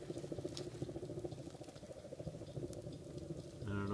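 A rocket mass heater burning, giving a steady crackling and pattering fire noise throughout, fairly close and continuous, with a brief hum near the end.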